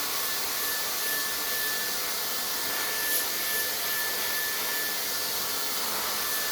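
A hair dryer blows steadily during a pre-blow-dry and sectioning session in a salon, its continuous airy roar joined by a faint high whine, close and unbroken with no talking.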